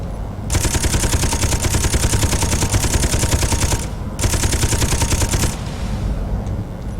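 A fighter's missiles firing in a space video game, a loud dense rapid-fire burst lasting several seconds, a brief pause, then a second shorter burst.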